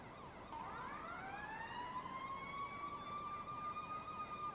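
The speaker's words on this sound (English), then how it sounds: "And run your siren." Emergency vehicle siren in the EmergeNYC video game, a wailing tone that sweeps up and holds a long rising cry, fairly clear and alone with no talk.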